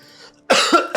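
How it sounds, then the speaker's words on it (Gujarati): A person coughs twice in quick succession, close and loud, after a brief quiet moment. "તને ખાંસી આવે છે ને?"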